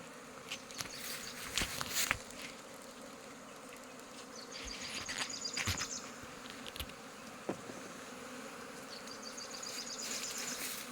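Bees buzz steadily during an outdoor honey harvest in Laos, individual insects droning close past with rising and falling whines over a continuous hum, plus scattered clicks and rustling from the work.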